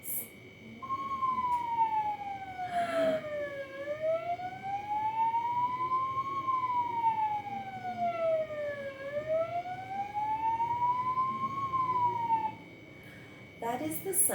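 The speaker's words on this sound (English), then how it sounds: "That is the sound of an ambulance." Ambulance siren wailing in a long, smooth rising and falling tone that sweeps up and down several times, steady and fairly prominent, with a brief voice at the start and end.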